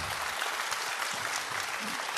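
An audience claps for a producer at a Korean broadcast event, a dense, steady round of applause throughout.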